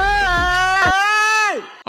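A congress member lets out a loud, sustained, high-pitched scream for about a second and a half. The scream is strained and shrill, and it drops off sharply at the end.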